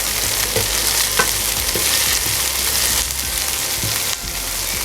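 Onions fry in a pan for a mutton curry, a continuous loud sizzle with scattered spatula clicks and scrapes as they are stirred, easing slightly near the end.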